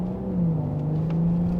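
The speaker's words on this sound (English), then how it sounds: "you've got a lot more exhaust noise, but it's not deafening" A BMW 540i exhaust rumbles and hums under load, a steady low throaty drone lasting the whole moment without any talking.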